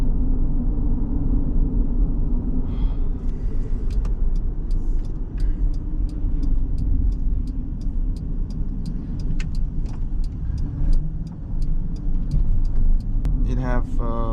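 Steady engine rumble from a Toyota Granvia Q minivan with a 3.4 V6, 4WD, pulling under part throttle while a voice talks over it, with light clicks and rattles inside the cabin.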